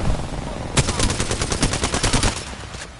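Automatic gunfire in the Apex Legends video game, several quick bursts of rapid shots, fairly loud and close, over a steady background of game sound.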